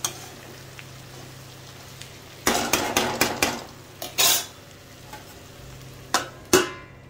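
Potato and cauliflower sabji being stirred in a pan, with a run of clattering utensil scrapes and knocks against the metal over a quiet kitchen background, then a few more isolated clinks; no one speaks.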